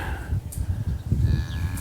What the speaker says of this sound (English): I got some cows out here judging my work